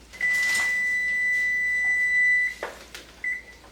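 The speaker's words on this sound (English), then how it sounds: "my timer has gone off" A kitchen timer's sustained electronic beep rings for about two seconds, followed by a short clatter and then a brief second beep.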